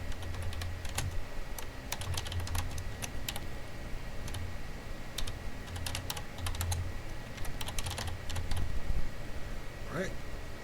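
Text is typed into a form on a computer keyboard in bursts of quick clicks with short pauses, close and fairly faint, and a voice speaks over it now and then.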